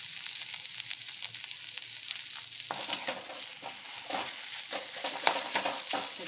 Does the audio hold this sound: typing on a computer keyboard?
no